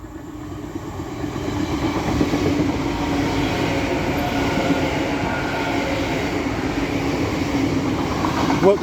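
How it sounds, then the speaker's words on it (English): A Transpennine Express Class 802 train on the Newcastle to Liverpool Lime Street service passes through a station, a steady loud rumble and rail clatter building and holding throughout. "The next train to be coming through will be a Transpennine Express Class 802 running from Newcastle to Liverpool Lime Street."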